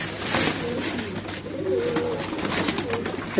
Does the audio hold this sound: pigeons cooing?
yes